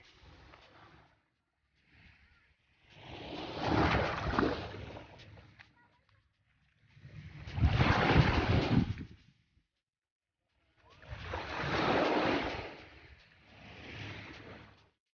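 Sea waves on a beach in Saipan surge and wash in about four broad roaring swells, each followed by a quiet lull, with gusty wind noise buffeting the microphone.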